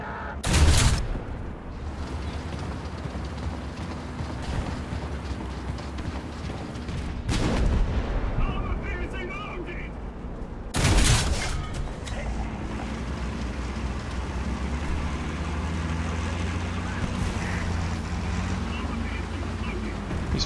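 Gunfire in War Thunder sounds as a few heavy booming shots spaced out over a steady engine and wind rumble, with a player talking now and then.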